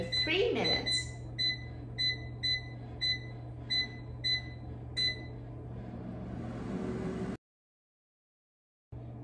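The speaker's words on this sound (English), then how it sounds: "Now the air fryer is done cooking." An air fryer toasting bread finishes with a series of about nine evenly spaced electronic beeps over a low running hum, then the fan winds down into a softer whir before cutting out.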